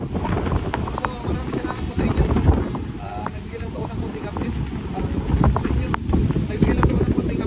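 Typhoon Uwan wind roaring steadily in an area of Bulacan, loud and continuous with buffeting against the microphone and gusts swelling throughout, a voice speaking underneath.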